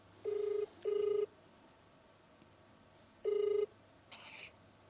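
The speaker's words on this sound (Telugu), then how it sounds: "సరే ఇప్పుడు అమ్మాయికి కాల్ చేద్దాము" An outgoing phone call rings back through the handset in short repeated tone pairs: two bursts, a pause, then another burst and a fainter tone, clear against quiet background hum.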